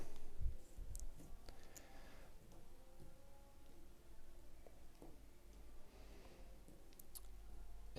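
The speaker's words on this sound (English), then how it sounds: "Alabastus rolls all his dice." Dice rolling across a table during combat in the board game Sky Empire: scattered faint, quiet clicks and rattles spread over the clip, with no talking.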